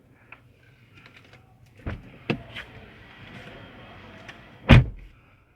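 Quiet mechanical clicks and a soft whir lead to a few thuds, ending in one heavy, close door slam of a 2021 Ford Territory 1.5 EcoBoost Titanium+ SUV.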